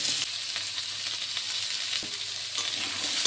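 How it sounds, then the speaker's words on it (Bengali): Red potato frying in oil for shukto sends up a steady, loud hiss and crackle close by, with occasional sharper pops and light stirring. "লাল আলুটিকেও একইভাবে ভেজে নেব।"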